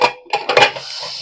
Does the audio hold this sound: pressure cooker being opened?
yes